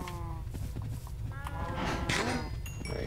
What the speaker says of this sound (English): Breed these cows.